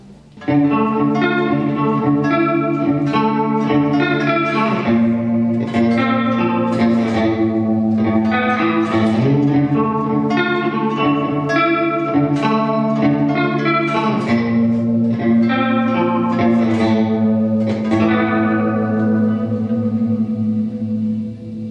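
Electric guitar playing sustained chords and notes through shimmering chorus and delay effects from Fender The Pelt and Mirror Image pedals, echoes trailing continuously, loud and steady with no talking.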